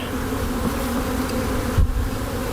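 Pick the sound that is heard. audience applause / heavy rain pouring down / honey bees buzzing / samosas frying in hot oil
honey bees buzzing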